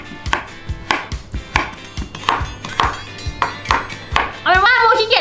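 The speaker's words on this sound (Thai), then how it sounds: "หั่นหัวออกก่อนเลย" A knife chops through vegetables on a cutting board while preparing a chili kimchi, about a dozen sharp, evenly spaced thuds, close and loud, ending in a brief rustle.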